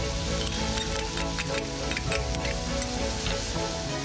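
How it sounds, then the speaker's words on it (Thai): Squid and shrimp stir-frying in a wok with sauces, a dense steady sizzle with scraping and ticking of the spatula running continuously, close and fairly loud, with no voices. "แล้วก็ผัดให้เข้ากันนะครับเพื่อน"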